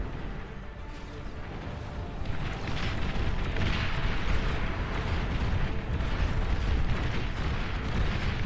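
Tank battle explosions in a strategy video game match, a dense continuous roar of booms and blasts that swells louder after the first two seconds and stays heavy throughout.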